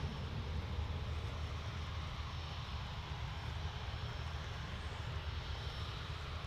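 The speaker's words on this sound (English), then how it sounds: "So, Singapore, A350 900, returning to Singapore." Singapore Airlines Airbus A350-900 jet engines at Manchester Airport, a continuous broadband roar heard at moderate distance with no other sounds.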